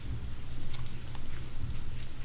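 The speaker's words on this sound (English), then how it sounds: "just listened to the rain" Steady rain falling in the video game Signal Simulator, a dense continuous patter of drops at even volume throughout, heard alone with no talk.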